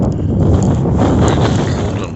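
Cold wind buffets the microphone at a junkyard full of old GM vehicles, a steady, loud, broadband roar that holds without a break for the whole stretch.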